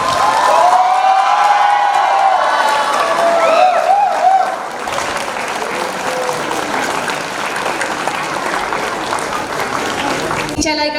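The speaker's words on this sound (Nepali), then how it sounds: "जोरदार ताली बजाएर साथ दिनुहोला।" An audience at a school welcome and farewell program claps loudly, sustained applause with some cheering and whoops from the crowd.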